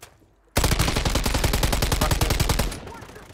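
Sustained automatic gunfire in the Warzone video game, a dense rapid burst of shots starting abruptly and running about two seconds, loud and close, then tapering off.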